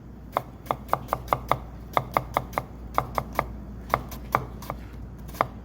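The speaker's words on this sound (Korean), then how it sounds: "칼끝이 도마에 닿게 이렇게 잘라주시면 돼요" A kitchen knife chops octopus on a cutting board, prepared for a Japanese cooking certification exam, with about twenty sharp, close, evenly paced chops that pause briefly between runs.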